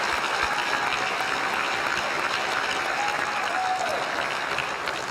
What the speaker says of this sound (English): you owe a round of applause to your Australian Diamonds and to Trish